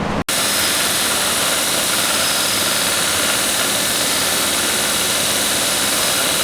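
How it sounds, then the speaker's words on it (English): A belt grinder beveling the back of a hand-forged steel pocket pry bar, a loud, continuous abrasive roar with a brief click at the start, then steady without pause. "Now I'm just going to use the belt to bevel the back a little bit,"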